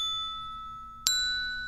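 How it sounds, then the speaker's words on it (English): A single bright glockenspiel ding in a PBS Kids video game rings out clearly over a faint steady musical hum and then sustains. "The Glockenspiel has a higher ding than most instruments."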